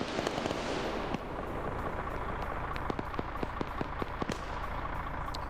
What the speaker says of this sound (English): they've opted to drop a bomb on him